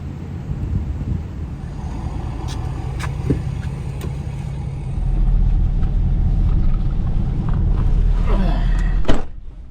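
Car on the road during a road trip with an Airstream trailer, steady engine and tyre rumble that swells louder midway, with a sharp knock near the end and occasional voices.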